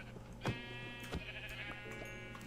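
Sheep bleating in Minecraft, several harmonic bleats in sequence over steady game background noise, moderately loud with no talking.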